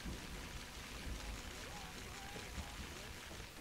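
Steady rain falls in a video game, a dense continuous hiss of drops with low rumbling underneath, holding even throughout at a moderate level with no talking.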